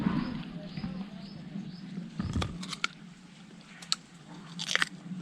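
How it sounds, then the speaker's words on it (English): Someone bites into a ripe white guava on a fruit farm, producing several sharp, close crunches followed by chewing, with faint background noise between bites. "You can crunch and get it."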